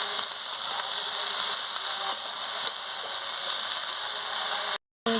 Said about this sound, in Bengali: মশলার সঙ্গে আনাজ দিয়ে ভালো করে নাড়িয়ে নিচ্ছি